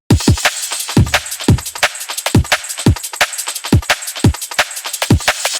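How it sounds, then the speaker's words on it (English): A liquid drum and bass beat in the Hospital Records style plays on its own: a two-step pattern of punchy kicks and cracking snares under a busy, continuous hi-hat and cymbal layer, loud and up front. "So the drum pattern sounds like this on its own."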